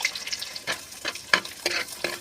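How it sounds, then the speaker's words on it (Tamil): Small onions with mustard seeds fry in sesame oil in a clay pot, a steady close sizzle broken by repeated scraping stirs and clatters, with no talking. "வெங்காயம் நல்லா வதங்கட்டும்"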